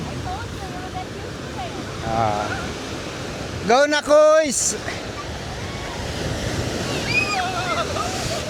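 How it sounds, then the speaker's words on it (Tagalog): Ocean surf on a beach at Tenby, rising toward high tide in the late afternoon, makes a steady broad wash under light wind, with shouting and excited voices breaking in near the middle. "Kasi mag-ano na, mag-high tide na eh. Kaya lumalakas ng alon."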